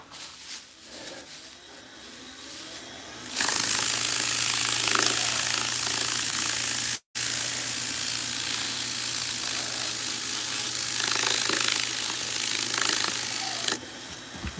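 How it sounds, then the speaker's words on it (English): Wood being burnished on a lathe rattles loudly over a hole left by a carpenter bee, a harsh continuous mechanical clatter that starts after a quieter stretch, cuts out for an instant midway, then runs on steadily until near the end. "That hole that carpenter bee left us is what's making all that racket."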